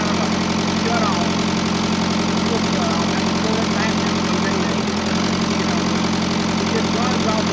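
An International Harvester 574 diesel tractor with a fuel injection pump problem idles steadily up close, its engine giving a loud, unbroken low chugging rumble throughout.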